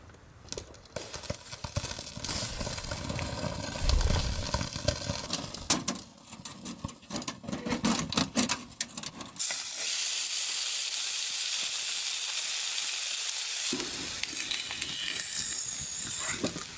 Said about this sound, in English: The sizzling sound of beef on a hot pan echoed through the tent.